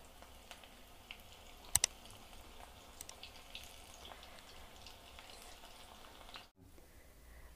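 Cauliflower pakodi fry in hot oil, giving off a faint, steady sizzle with occasional small pops and crackles. The sound is quiet and close, and it cuts off abruptly near the end.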